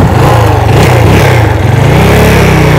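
A motorcycle engine revs up and down at close range, loud and steady with rising and falling pitch, running alone without talk.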